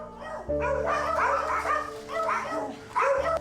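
Several dogs sharing a sleeping spot bark and yip in overlapping bursts, close by and fairly loud, with a steady low hum underneath and no talking.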